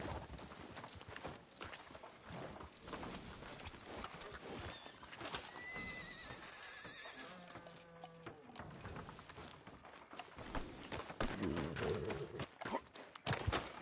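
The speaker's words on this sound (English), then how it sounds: "Tether the horse and I'll meet you across the street" A horse in Red Dead Redemption 2 neighs and whinnies while its hooves clop along a town street, the rhythmic hoofbeats and snorts fairly quiet and mixed with ambient game sounds.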